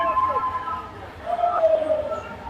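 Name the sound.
crowd at IUKL European kettlebell championship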